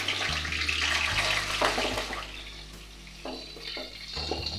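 Prawns sizzle in hot oil in a pan, a steady crackling hiss with occasional stirring scrapes and a low hum underneath, close and continuous.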